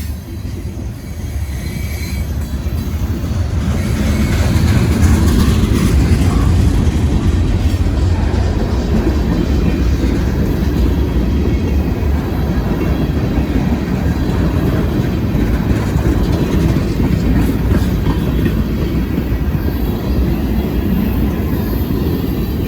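A CSX freight train with double DPUs rumbling past up close, loud and sustained with rolling wheel noise and clickety-clack of freight cars, building in the first few seconds then holding steady.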